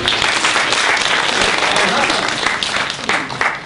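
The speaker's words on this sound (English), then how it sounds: "Round of applause for Anne, please." Audience at a magic show breaks into steady, dense applause that fills the whole stretch, loud and close, with no pause.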